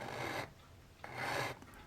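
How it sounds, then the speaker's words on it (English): A sanding stick rasps against a small model ship part in two bursts of steady rubbing strokes with a pause between them, close and clear with no talking. "I'm just going to use the sanding stick on this."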